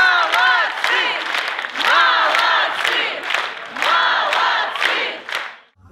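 A theatre audience stands and applauds after a premiere performance, the clapping loud and dense with crowd cheering and shouts rising and falling in waves before trailing off.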